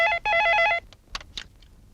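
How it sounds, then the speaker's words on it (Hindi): A telephone rings in a Hindi film scene, two trilling electronic bursts of bell-like ringing, close and clear, followed by faint clicks and quiet handling sounds. "एंथोनी साहब का फोन है।"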